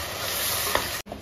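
Stone-ground masala and onions sauté in a pan with a loud, steady sizzle and a quick stir clatter near the end, then a brief break before the frying resumes.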